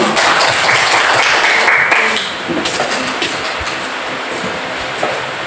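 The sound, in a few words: applause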